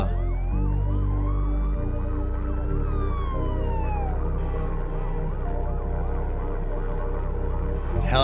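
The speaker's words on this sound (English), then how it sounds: "Helicopter, fire engine, police car. Well, I assume police car." Wailing police car siren in the outro of a rap song, rising and falling sweeps layered over a thick, steady musical bed with other siren-like tones, continuous and loud throughout.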